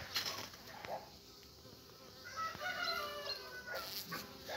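Honeybees buzz faintly around the hive entrance on a warm winter day during their cleansing flight, soft intermittent hums drifting past over quiet outdoor background noise.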